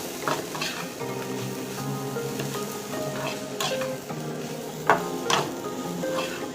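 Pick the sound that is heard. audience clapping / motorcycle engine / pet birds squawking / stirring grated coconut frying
stirring grated coconut frying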